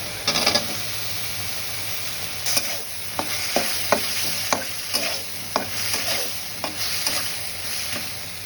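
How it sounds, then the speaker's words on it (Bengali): Cut potatoes sizzle in spice paste made from ground onion and green chili in a pan. A steady fry hiss runs throughout, with regular clacks of a spatula stirring and scraping. "দিয়ে দিচ্ছি কেটে রাখা আলু।"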